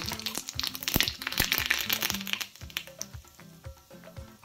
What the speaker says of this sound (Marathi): मोहरी टाकते